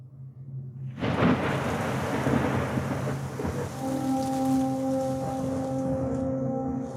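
A heavy thunderclap breaks in after a second of quiet and rolls on into loud, close, steady rain, with a low sustained tone underneath.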